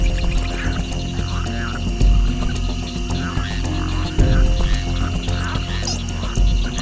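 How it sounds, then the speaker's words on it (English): Frogs call in a dense nocturnal chorus, with overlapping croaks and trills layered over a steady low rumble. The calls are continuous and fairly loud, with no voices. "frogs try to stay hidden or reduce their calls to a brief, low-frequency rumble"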